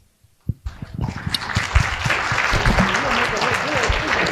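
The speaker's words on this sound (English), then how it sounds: "thank you for thanking our artists with that round of applause" An audience at a visual artist awards event breaks into a round of applause for the artists, starting with a few scattered claps and quickly swelling into steady, full clapping throughout the hall.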